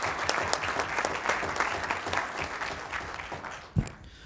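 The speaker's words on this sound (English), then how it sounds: "How about one more round of applause for our competitors?" Audience at a park district board meeting gives a round of applause for karate competitors, many hands clapping steadily at moderate volume, with a sharp thump near the end.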